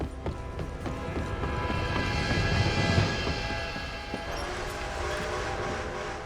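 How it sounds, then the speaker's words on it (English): A train approaches in Red Dead Redemption 2, a steady rumbling roar with rhythmic clattering that swells and stays loud across the whole stretch, without speech. "Train!"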